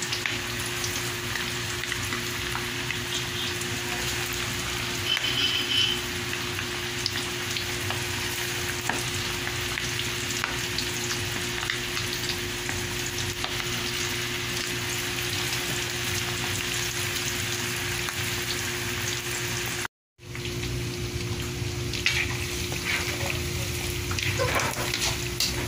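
Pork bubbles and sizzles in hot oil, a steady close frying hiss that runs on for the whole stretch, broken only by a split-second dropout near the end.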